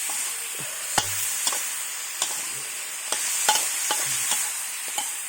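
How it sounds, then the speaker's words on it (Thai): Pork ribs stir-fried with lemongrass and a splash of fish sauce in a pan, a moderate continuous sizzle punctuated by sharp spatula clacks against the pan at irregular intervals. "รีบผัดเลยนะครับ"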